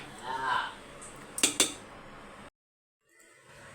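A serving utensil clinks against dishes as cooked chicken biryani is put onto a plate, with a few quick metallic chinks in the middle, after soft background sounds and a possible faint voice at the start.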